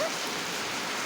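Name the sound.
wind and rain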